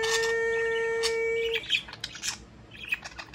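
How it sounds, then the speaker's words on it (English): A pet budgie chirps at close range in a quiet room. A sustained whistled tone gives way to a quick run of bright chirps and squawks. "You are very loud, Rose."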